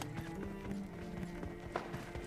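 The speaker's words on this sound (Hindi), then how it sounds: "यहाँ पास से फुटस्टेप की आवाज़ आने लगी थी" Quick, rhythmic footsteps in PUBG Mobile Lite, tapping close by over a dense, busy background of game sounds.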